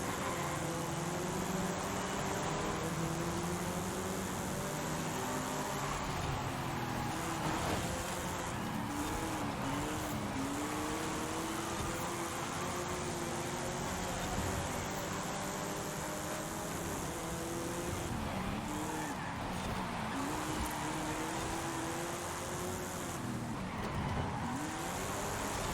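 A car in the Forza racing game drives continuously with a steady mid-pitched engine whine that rises and falls through gear changes and corners, and occasional faint tire noise.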